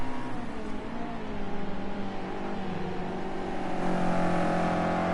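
GT4 race cars at Brands Hatch in a British GT race, engines droning and rising in pitch as they accelerate, a steady nearby roar that builds toward the end.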